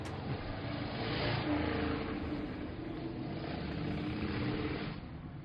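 A huge car with no muffler passes on a street outside, a loud, rough engine roar that swells and fades across several seconds as the vehicle goes by.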